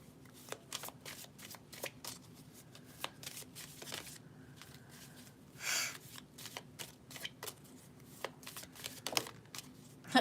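Tarot cards being shuffled by hand, a run of quick crisp riffling flicks and soft slides, close and quiet with no talking.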